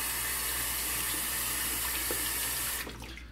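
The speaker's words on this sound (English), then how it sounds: "Pouring the bloom water on the brush." A steady stream of water is poured onto a shaving brush close by, splashing continuously and fairly loudly, then cutting off abruptly near the end.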